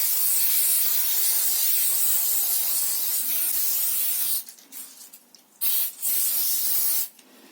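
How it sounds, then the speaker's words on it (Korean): An adhesive spray can sprays in a steady, close hiss for about four seconds, then fires several shorter bursts before falling silent, with no talking. "스프레이예요. 접착제라고. 그래서 이걸 먼저 뿌린 다음에 천을 입혀 볼게요."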